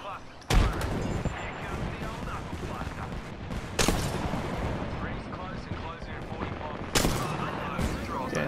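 Gunfire in the video game Apex Legends, three sharp loud shots spaced a few seconds apart over a dense, continuous bed of rapid game combat noise, with a player's voice talking over it.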